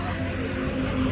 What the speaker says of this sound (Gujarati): અમારા સંઘનું ટ્રેક્ટર છે.